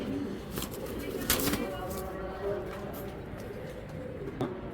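Chita Silver pigeons cooing in a loft, low repeated coos close by with a few wing flutters, while someone talks over them.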